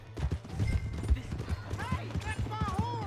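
Horse hooves clip-clop in the Western video game Red Dead Redemption 2, a steady low thudding rhythm running through the whole stretch beneath ongoing character dialogue and scattered sound effects.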